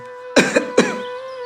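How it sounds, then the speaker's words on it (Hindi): Two harsh coughs ring out close by, one right after the other, over a faint steady hum. "कितनी खांसी हो गई है तुझे?"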